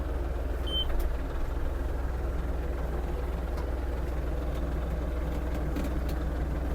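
The diesel engine of an Iseki TG-31 Japanese mini tractor idles while warming up, a steady, close low throbbing drone that holds even throughout with no other prominent sounds.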